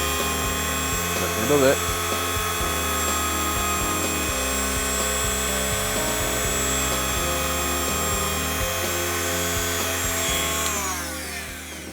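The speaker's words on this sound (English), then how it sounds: "I'm finishing it off with the good old trusty wire wheel" A motor-driven wire wheel cleans the armature of an old model train motor, making a steady, loud whirring drone with a brief scraping burst early on and the motor winding down at the end. A voice speaks briefly over it.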